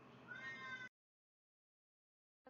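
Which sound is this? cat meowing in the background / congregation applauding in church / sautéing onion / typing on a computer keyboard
cat meowing in the background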